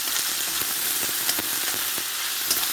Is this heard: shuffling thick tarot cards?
no